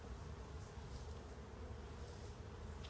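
Honeybees drone in a dense, continuous buzz during a hive inspection, a steady low hum filling the space at close range with no pauses or voices.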